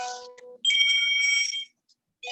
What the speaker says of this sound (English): My phone come on again.